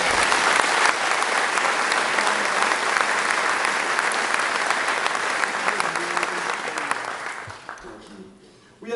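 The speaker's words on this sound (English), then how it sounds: "Can we give both those organizations a round of applause?" A debate audience at a community college gives a loud, sustained round of applause, a thick crowd clatter that holds for several seconds before tapering off and fading near the end.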